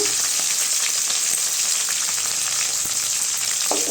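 Mint leaves, curry leaves and garlic sautéing in a pan for country chicken gravy, a loud steady sizzle close up with occasional clicks and stirring knocks.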